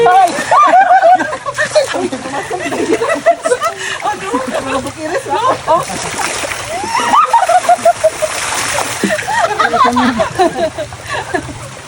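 Water splashes and sloshes repeatedly in a river at Sitio Iraya, Antique, Philippines, while several people talk and laugh loudly nearby, voices overlapping throughout.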